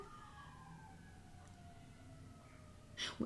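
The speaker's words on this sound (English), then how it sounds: "Do you hear that siren?" A faint, distant siren wails outside in a small town with a slowly falling pitch over a low background rumble, followed by a brief clatter near the end.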